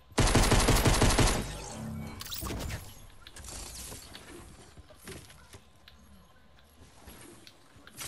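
Loud rapid burst of automatic gunfire in the video game Fortnite, a dense rattling volley for about two seconds followed by scattered shots, impacts and clatter fading into quieter game sounds.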